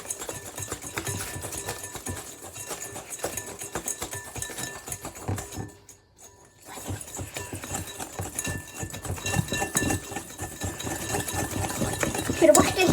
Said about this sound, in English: we're going to like whisk and whisk and whisk and whisk and whisk and whisk and whisk